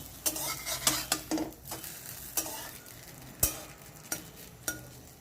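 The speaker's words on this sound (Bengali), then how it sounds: "এই পাশটা আরও দু মিনিটের মতো ভেজে নিচ্ছি" Bhabra fritters fry in oil with a steady low sizzle, punctuated by irregular sharp clinks and scrapes of a spatula against the pan, close and fairly quiet with no voices.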